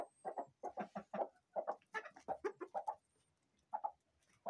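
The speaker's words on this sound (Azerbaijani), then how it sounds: "o toyuğumuz başlayıb qırtlamağa" A broody hen clucks close by in a rhythmic series of short, throaty clucks, with a brief pause before a final pair.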